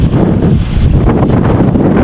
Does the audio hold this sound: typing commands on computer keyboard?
no